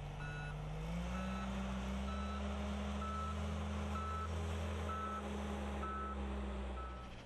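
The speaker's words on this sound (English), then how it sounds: "Even though the reverse alarm is sounding, you still need to look behind you before and while backing up." A John Deere four-wheel-drive loader sounds its reverse alarm, a steady series of evenly spaced electronic beeps over a loud, constant diesel engine rumble, close by with no talking.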